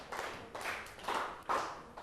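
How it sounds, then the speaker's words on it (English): Students in a Grade 7 maths class clap in unison, about five crisp, evenly spaced claps, fairly faint and heard alone in the room. "give yourselves 5 big claps"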